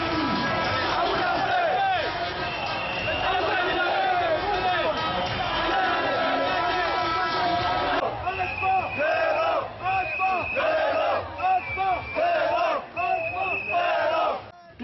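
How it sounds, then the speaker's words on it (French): Crowd of protest marchers chanting slogans in unison, many voices shouting rhythmic phrases with repeated cadence amid background hubbub, loud and continuous throughout. "on entend dans la foule des slogans dont le fameux Amoulanfé"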